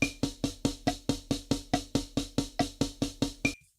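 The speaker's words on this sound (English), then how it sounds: "So 16 notes sound something like this." Close, loud drum strokes played as fast, even sixteenth notes, a dense steady stream of crisp hits with a bright ringing top and low thump underneath, stopping abruptly after a few seconds.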